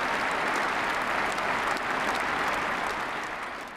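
A large hall audience applauds during Putin's address to Russia's Federal Assembly, a dense and steady wash of clapping that stays loud for several seconds before it begins to fade.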